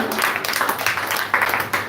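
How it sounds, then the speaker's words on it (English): An audience applauds a visiting speaker at an evening devotional gathering, a short spell of scattered, uneven clapping heard fairly close, no speech over it. "A huge round of applause to him."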